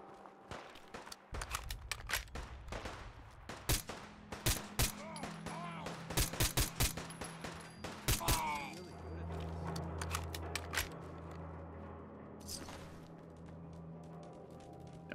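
Gunfire in the video game Fallout 4: rapid bursts of loud, close shots and automatic fire crack repeatedly over several seconds, then give way to quieter rumbling ambience, with a voice talking at times.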